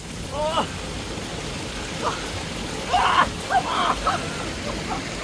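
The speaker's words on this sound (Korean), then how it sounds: "자, 폭포수 가까이 옵니다." Rushing water of a waterfall in a valley stream, a steady broad wash with louder splashes and sloshes near the middle, and brief vocal sounds over it.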